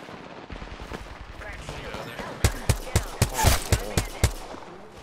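Gunfire in a squad fight in a video game: quieter background shots first, then a loud, close burst of about eight evenly spaced rapid shots over the second half, with a voice speaking faintly underneath.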